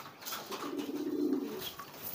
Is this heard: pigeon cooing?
yes